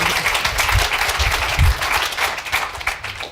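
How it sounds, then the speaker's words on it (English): Applause from a conference audience for a panel on race and politics, a steady crowd of clapping filling the full stretch at moderate volume with some low thumps underneath. "can we give a round of applause to this panel?"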